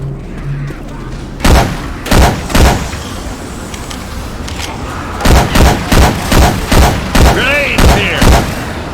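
Rapid gunfire from Syphon Filter weapon sound effects swapped into the zombie shooter Left 4 Dead 2: three loud, sharp bursts, a pause with background game noise, then a steady run of about eight close shots in quick rhythm.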